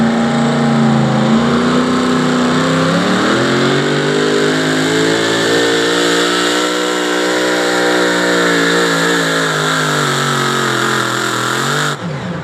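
Spellbound pulling truck, driven by Doug McKee, roars at full throttle through a truck pull run at Dragway 42 in West Salem, Ohio, a loud sustained engine howl that climbs in pitch and holds steady before cutting off near the end.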